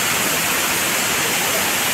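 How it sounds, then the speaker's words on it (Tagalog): Shifen Waterfall in Taiwan roars as a dense, steady rush of falling water, loud and close, with no other sounds. "Taiwan Waterfalls."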